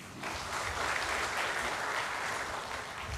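Dense, continuous audience applause swells in after a brief moment and holds steady at an even, moderate level from start to finish.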